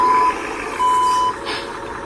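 An RC Hino dump truck gives out a steady electronic reversing beep, pulsing in long even tones over a constant motor whine. Close and moderately loud, with no talk over it.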